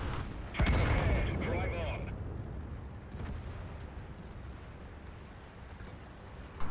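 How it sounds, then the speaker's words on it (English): A tank cannon fires in a tank video game, one loud close boom followed by a long rumbling decay, with fainter distant shots and clatter afterward. "so I'm just going to shoot him through the track."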